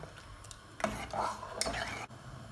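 A spoon stirs lentil parippu curry in a pot, making a few scraping knocks against the metal and soft wet swishes, close and moderately quiet, with no talking.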